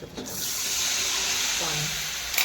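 Water from a kitchen tap runs steadily while a mixer grinder jar is rinsed out, a close, continuous hiss and splash with a brief change in tone near the end.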